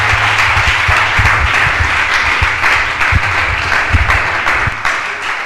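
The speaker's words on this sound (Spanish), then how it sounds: "un aplauso a nuestro hermano por esa explicación en este día" A congregation at a question-and-answer seminar gives a loud, sustained round of applause, steady and close, with no break across the whole stretch.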